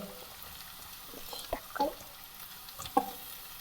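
Onions dropped into hot oil for a Kerala fish curry give a soft, low sizzle, broken by a few brief clinks and scrapes from stirring.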